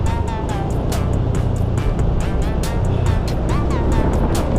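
A motorcycle passes on a road, its engine hum continuous and fairly loud, with broadband road and wind noise and repeated brief bursts over the whole stretch.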